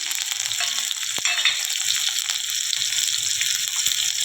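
Garlic and chopped green chillies cook in a pan with a steady close sizzle and soft crackle, broken by a couple of sharp utensil taps against the pan.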